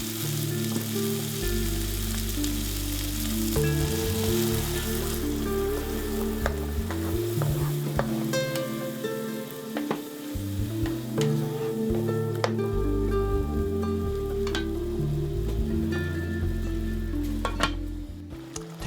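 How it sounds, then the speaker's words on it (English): Bacon, mushroom and cream pasta bubbling and sizzling in a frying pan while being stirred, a steady close frying hiss with scraping stir strokes throughout and no talking. "Mix and cook for another minute."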